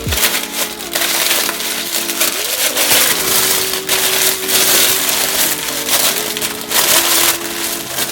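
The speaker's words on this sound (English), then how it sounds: "we're just gonna unwrap this" Crinkling, crushing plastic packaging as a silicone nail practice hand is unwrapped, steady close rustling throughout with a few sharper crackles.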